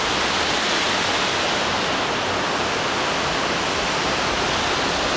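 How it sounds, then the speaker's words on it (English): A waterfall roaring as a loud, dense, unbroken rush of falling water, steady and close with no other sounds. "That's a waterfall."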